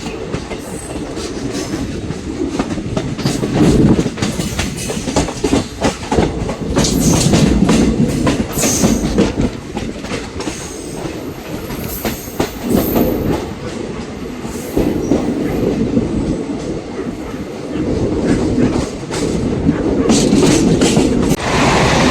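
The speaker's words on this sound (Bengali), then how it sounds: "তো ছেড়ে দিয়েছে ট্রেন, ছেড়ে বেরিয়ে যাচ্ছে বাবতপুর রেলওয়ে স্টেশন।" A special train hauled by a WAG9 electric locomotive pulls out of Babatpur station, heard from on board as a loud, continuous rumble with rhythmic clickety-clack of wheels over rail joints and occasional squeals.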